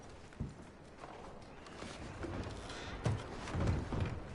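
Horse hooves clip-clop at a walking pace in a Red Dead Redemption 2 camp scene, soft irregular thuds growing slightly louder toward the end over a low ambient background.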